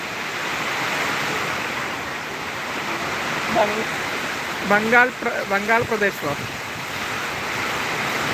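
Steady rushing wind and rain roar outdoors in Erattupetta, Kerala, with a voice briefly speaking partway through.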